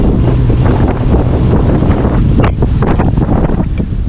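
A boat cruises along the Cauca River near Buga, Valle del Cauca, with strong wind buffeting the microphone into a steady, loud rumble and faint water wash throughout, no voices.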